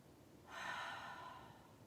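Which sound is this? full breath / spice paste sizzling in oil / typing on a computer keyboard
full breath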